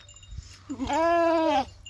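A sheep on a farm gives one wavering, drawn-out bleat, close and clear, preceded by faint rustling and low background noise.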